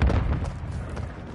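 A stun grenade detonates during a Modern Warfare III hardpoint match: a loud, close low boom with a sharp onset that rumbles and decays over about a second, with gunfire-like crackle underneath.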